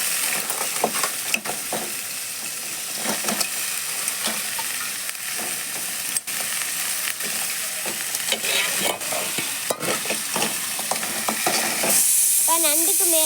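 Crab pieces fry with turmeric in a pan, giving a steady sizzle broken by scraping, clinking strokes of a stirring spoon, and the hiss swells louder near the end.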